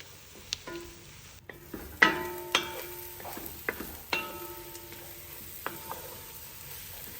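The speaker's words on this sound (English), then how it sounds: "I'll cook this down for roughly another 10 minutes so that the garlic can cook into the roux" Minced garlic cooks down in a gumbo roux in a pot, a low steady sizzle broken by repeated metallic clinks and scrapes of a spoon stirring against the pot, close by with no talking.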